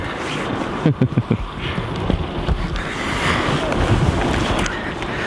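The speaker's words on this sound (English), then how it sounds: "We are at Gullfoss, the waterfalls." Gullfoss waterfall in Iceland roars as a steady, broad rush of water mixed with gusting wind buffeting the microphone, with a few low thumps near the start.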